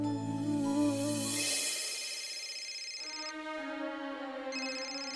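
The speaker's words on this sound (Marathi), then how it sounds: "सरनोबतांचा फोन" A phone ringtone plays a melodic electronic tune of stepped tones, clear and moderately loud indoors, sounding alone with no voices.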